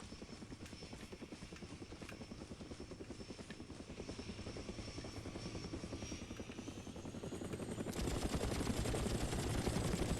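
A helicopter in Far Cry Instincts Evolution thuds with fast, steady rotor chop that swells louder toward the end, with a sharper burst near the close and no voices.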